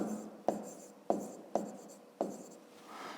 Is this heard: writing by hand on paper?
yes